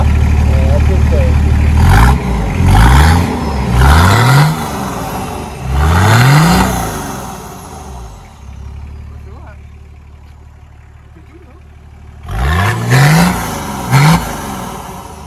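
A Nissan Patrol Y60 long-chassis 4x4 engine with a straight-through exhaust revs up repeatedly in loud, close bursts, dropping to a rumbling idle between them, with people talking over it.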